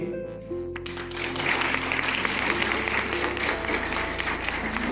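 An audience claps steadily for teachers at a Punjabi mother-language day honours ceremony at a school. The dense, sustained applause builds after a brief lull over a low electrical hum.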